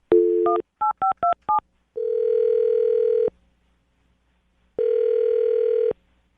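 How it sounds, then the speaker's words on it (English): A quick run of touch-tone keypad beeps dialing a number, followed by two long steady dial tones separated by a pause; clear and close, no voices. "I'm going to dial the phone number right now"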